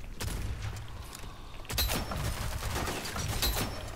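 Gunfire in the shooter game Rogue Company, a rapid, dense burst of close shots with a short lull before more volleys crackle over a low rumbling bed.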